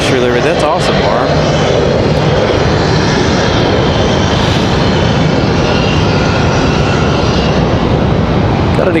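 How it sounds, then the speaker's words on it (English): An executive jet takes off from Raleigh-Durham International Airport, a loud continuous engine roar filling the whole stretch at steady intensity, heard from nearby at the airfield. "Got an exec jet departing over there behind us. Taking off quite loud."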